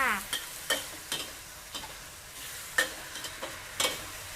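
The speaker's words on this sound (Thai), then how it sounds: "คลุกเคล้าอีกสองสามที ให้ผักสลด" Vegetables stir-fried in a hot pan for black pepper shrimp, with a soft sizzle broken by several sharp spatula scrapes and clinks at irregular intervals, close and fairly quiet.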